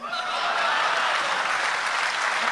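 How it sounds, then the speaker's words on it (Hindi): Loud, sustained applause from a large audience at a poetry reading in India fills the whole stretch, steady and dense without a break. "और जोरदार तालियों के साथ"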